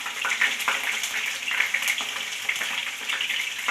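Ginger dropped into hot oil for pepper chicken dry fry sizzles and crackles close by, a dense spitting fry with quick pops and bursts throughout, with no voices over it.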